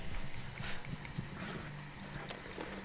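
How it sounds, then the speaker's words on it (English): A horse gallops in the video game Red Dead Online, a quiet, steady rhythmic clip-clop of hooves continuing under a faint background wash. "My horse can only go so far."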